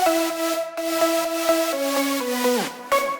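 A remake's lead synth with heavy multiband compression, a brighter, fuller sawtooth chord riff of rhythmic stabs stepping downward, closing with a pitch-bending swoop and a final stab, loud and alone.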